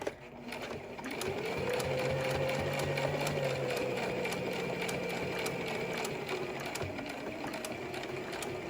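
Sewing machine stitching along the outside edge of a cable-tie reinforced fabric face mask, a steady close whirring hum with fast needle ticking, slowing slightly near the end.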